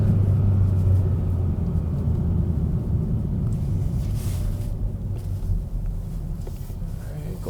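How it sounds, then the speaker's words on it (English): A 2024 Hyundai Sonata SEL with the 2.5-litre engine revs while driving, giving a steady low rumble from inside the cabin that swells slightly and then settles. "Definitely hear the engine revving."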